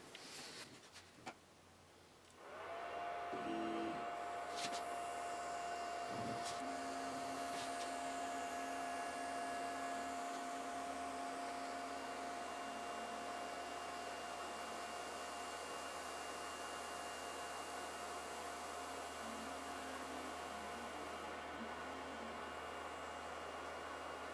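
A MaxiCut4X CNC hot-wire cutter slicing a glider wing from foam, heard as a steady continuous whirring hum that starts after a brief quiet moment and runs unchanged throughout, with faint clicks and no talking.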